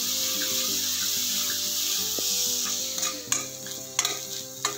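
Bitter gourd being stirred and fried in a pan, a steady sizzle with scraping stirring strokes that turn into sharper knocks near the end, while a musical tone drones underneath.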